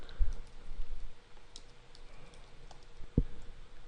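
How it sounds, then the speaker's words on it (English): Keys tapped on a computer keyboard while entering a short message for a digital Christmas tag, heard as a few faint, sparse clicks with one sharper tap near the end over a quiet room. "And then I'm going to type in"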